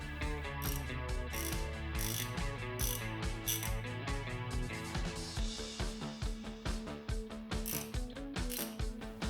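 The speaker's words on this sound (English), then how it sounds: "Let's test the socket on a ratchet. I have got here Stahlwille ratchet." A Stahlwille ratchet turning a Bahco half-inch deep socket sets up a dense, continuous run of rapid metallic pawl clicks, close and fairly loud, with no voices.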